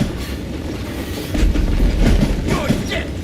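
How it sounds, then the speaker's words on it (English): A speeding train in Call of Juarez Gunslinger rumbles loudly along the rails with clattering wheels and a faint high squeal, the roar swelling midway and staying close and heavy to the end. "that train was flying down those tracks like a bat out of hell"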